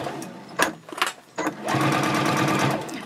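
Sewing machine basting a pouch seam at a 3.0 stitch length, starting and stopping in short bursts before settling into a steady, close, continuous whirring run.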